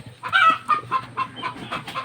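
Chickens on a farm cluck in quick, repeated bursts close to the microphone, several short calls overlapping over a quiet background.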